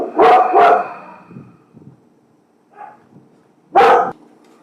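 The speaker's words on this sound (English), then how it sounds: "so 4 of the dogs rudely interrupted" Dogs barking close by indoors: two sharp barks in quick succession, a few quieter yips and whimpers, a short pause, then one more loud bark.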